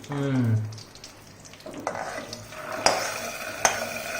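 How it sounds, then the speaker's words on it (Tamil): Hot oil crackles and sizzles steadily after spices are poured in for tempering, with a few sharp clinks of a utensil against the pan. "அதுக்கு மேல இதை சல்லுன்னு கொட்டி தாளிக்கிறேன்"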